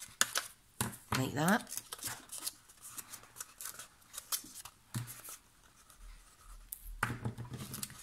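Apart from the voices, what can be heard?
scissors snipping paper to size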